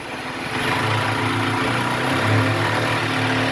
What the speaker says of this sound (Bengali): এখন ড্রিল করা হচ্ছে